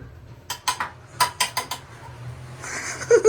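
Metal utensils clatter and clink against a pan while an omelette of raw chicken eggs is made with oil, giving several sharp, close knocks followed by a softer sizzle.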